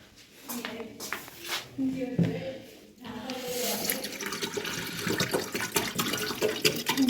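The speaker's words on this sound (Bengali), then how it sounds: "আমি জলটা ঢেলে দিই।" Water is poured from a container, splashing and trickling in uneven bursts that grow fuller toward the end, close by, while people talk over it.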